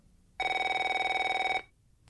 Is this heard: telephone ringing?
yes